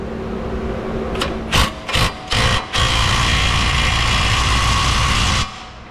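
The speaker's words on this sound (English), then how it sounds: "So I'm just gonna reach in and hit these with an impact." An impact wrench works on the lower strut bolts of a 2004 Ford F-150 during suspension work. A few short hammering bursts are followed by a longer continuous rattling run that stops abruptly.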